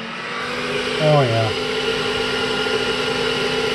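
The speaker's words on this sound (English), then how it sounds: "we'll drop that and make sure our chamber fan kicks on" Chamber fan blower on a Voron V2 3D printer, fitted with a chamber heater, gives a loud, steady, airy whoosh throughout, close by; a brief spoken exclamation rises over it early on.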